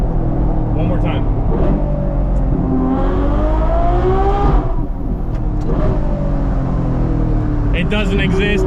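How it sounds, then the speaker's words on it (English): Ferrari 812 Superfast V12 with exhaust valves removed and small mufflers, revved repeatedly in traffic; loud, continuous engine roar with pitch sweeping up and down, heard from the cabin while someone talks over it. "what other car do you know of that sounds like this?"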